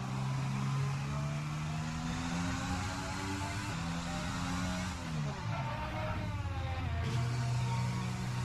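Formula 1 racing car from F1 2020 game easing off into the pit lane at Australian GP, engine note dropping and dragging down in steady pitch sweeps, loud and continuous with no talk.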